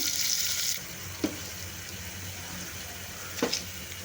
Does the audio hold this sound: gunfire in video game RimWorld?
no